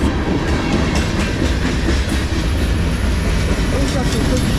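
A CSX manifest freight train rumbles past close by, a steady loud roar with faint wheel clatter throughout and no pause.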